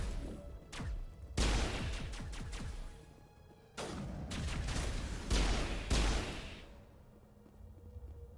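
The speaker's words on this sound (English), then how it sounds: "I'm trying to shoot through the wall" Gunfire from Mass Effect Legendary Edition, several loud bursts of shots with booming impacts and rattling debris, separated by short lulls, fading near the end.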